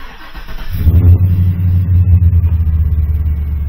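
A 2006 GMC Sierra 2500 with the 6.0 engine cranks and fires up, settling into a loud, steady rumbling idle with a slight pulsing rhythm close to the microphone.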